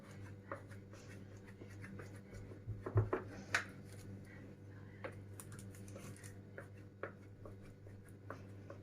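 A knife cuts through baked börek pastry, making faint, scattered crisp scratches and small crunches, with a brief cluster of sharper cuts near the middle, against a quiet background hum.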